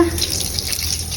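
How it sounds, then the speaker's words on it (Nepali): Tap water runs in a steady, continuous stream while a buffalo's feeding trough is cleaned on a small farm, with a bright splashing hiss throughout. "यसरी सफा गरेपछि यहाँबाट सर्लक्क पानी जान्छ"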